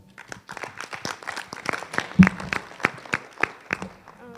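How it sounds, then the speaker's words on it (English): Audience applause at a high school unity summit, scattered distinct claps from a modest crowd, uneven and fairly close, building then thinning out. "So one more round of applause for them."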